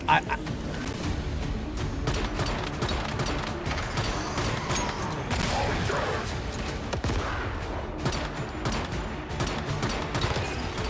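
Desert Eagle pistol fire in a survival video game: dense, repeated heavy shots over a busy, noisy game mix, with someone talking over the action.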